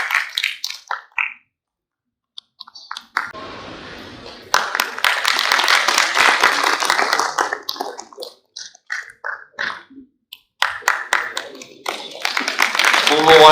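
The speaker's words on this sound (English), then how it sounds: "A big round of applause to all these people who have helped this particular event" Scattered audience applause at an Indian steel conference comes in bursts separated by quiet gaps, with clapping hands, a few sharp individual claps and some talking in between.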